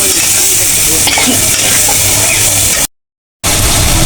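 Masala with chicken and chana dal sautéing in a pan, a loud close sizzle and frying hiss with stirring scrapes, cut by a brief dropout of silence before the sizzle resumes.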